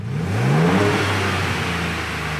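Ford Bronco with an upgraded exhaust starting up, a close, loud engine rev rising in pitch and then settling into a low, steady rumbling burble.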